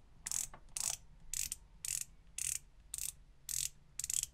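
Eight evenly spaced crisp clicks from a Rolex Submariner's rotating bezel, each a short bright ratcheting burst, close up with quiet gaps between.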